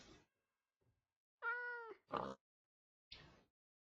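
A cat meows in a few short, quiet calls close by, one drawn-out tonal mew followed by quicker chirpy cries, separated by silence.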